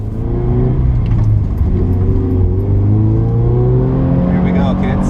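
A Scion FR-S on stock Michelin tires accelerating hard around a race track on a hot lap, its engine droning loudly from inside the cabin with rising pitch as it pulls through the gears.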